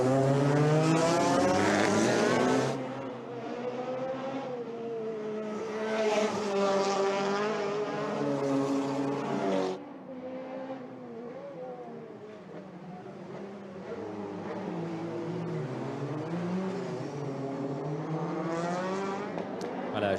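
Historic race cars at the Circuit des Remparts in 2017 roar past one after another, their engine notes rising and falling in long loud sweeps, with no break in the noise for about twenty seconds.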